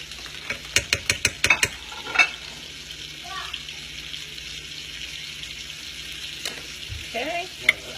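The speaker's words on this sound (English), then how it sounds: "now that those have a nice simmer on it, we're going to put in some minced garlic." Scallops and minced garlic sizzling and being stirred in a pan: a run of sharp utensil taps against the pan opens, then a steady close sizzle continues underneath, with a few more scrapes and clinks near the end.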